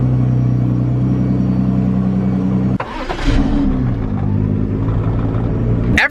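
A Ford GT supercar engine rumbles steadily at close range, then briefly drops off before revving back up into a loud, raw drone with no talking.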